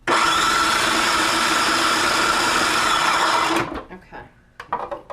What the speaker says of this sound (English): So you want to make sure it's really, really blended. So we're just going to do it for another minute.